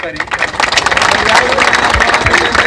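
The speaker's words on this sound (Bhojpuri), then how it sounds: "एक बार जोरदार ताली बजा के सभे समर्थन करी" Applause and cheering from a crowd at a Kanu Halwai community rally in Bihar, a dense wash of clapping that swells and stays loud, with voices mixed in throughout.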